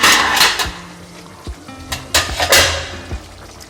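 Metal lid lifted off a cooking pot of potato and soybean curry on the stove, a few sharp clanks and knocks of metal on metal with quiet gaps between, close and fairly loud.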